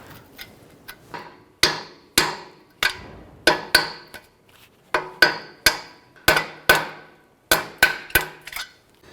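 A small chisel is tapped to scrape an old O-ring gasket out of a catalytic converter groove, making sharp metallic hits in uneven bursts, close and fairly loud, with no talking.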